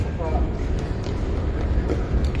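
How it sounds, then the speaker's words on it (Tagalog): Riyadh Metro train rumbling with a dense, steady low roar inside the carriage, a continuous ride noise without pauses, with a voice speaking briefly over it. "Nakasakay ng tren."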